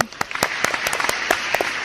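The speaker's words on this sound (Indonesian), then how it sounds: "Oke, tepuk tangan dulu." An audience at an Indonesian inspirational talk gives thin, scattered applause, a handful of separate sharp handclaps spread unevenly over a couple of seconds against a low room background.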